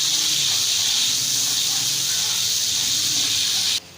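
Hot tadka with paprika powder sizzling steadily for beef nihari, a loud continuous hiss close by that cuts off abruptly at the end.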